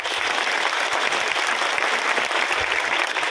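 An audience at a devotional musical gathering breaks into loud, dense applause, a sustained wash of many hands clapping together close by without letup.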